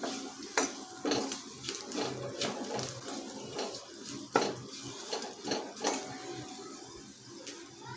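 A pot of spices with turmeric and asafoetida is stir-fried, faint sizzling beneath sharp intermittent clinks and scrapes of a utensil against the metal, quiet and close, with no talking.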